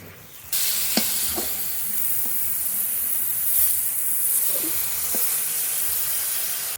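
Steady sizzling hiss of koi and tilapia fish wrapped in bottle gourd leaves, steaming in a pan as the pieces are turned over, with a few soft scraping knocks from the spatula; no talking.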